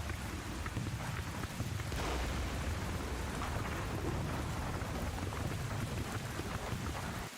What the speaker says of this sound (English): As night settles and the heavy rains increase in ferocity